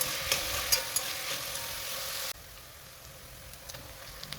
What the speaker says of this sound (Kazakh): Пиязын қуырамыз.